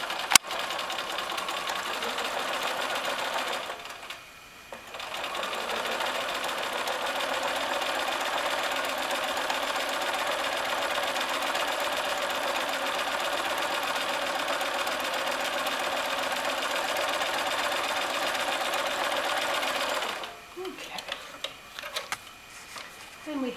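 A sewing machine stitching through pinned fabric layers of a landscape quilt: a steady close-up whir that runs for most of the stretch, with short pauses near the start and end.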